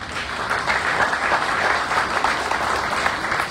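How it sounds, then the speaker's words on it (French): Audience applause at a New Year greetings ceremony, a steady, moderately loud round of clapping from a gathered crowd that holds evenly throughout without voices. "Nous pouvons applaudir."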